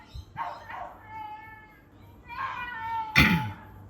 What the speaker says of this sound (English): Someone's murdering a dog.